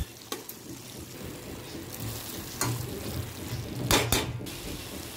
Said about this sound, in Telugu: మంచిగా మిక్స్ చేసుకోవాలండి.